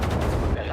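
Gunfire from the World War II strategy video game Sudden Strike 5, a dense, loud burst of shots and rumbling battle noise lasting under a second.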